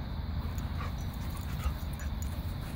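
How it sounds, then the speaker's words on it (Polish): Small puppy panting steadily at close range in an outdoor meadow, with faint whimpers mixed in. "To malutki piesek jest jeszcze."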